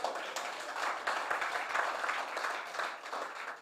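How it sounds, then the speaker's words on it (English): An audience at the opening ceremony of the Jamaica Diaspora Conference 2022 claps, a sustained wash of applause at a steady level with no voices over it. "You can give me a round of applause"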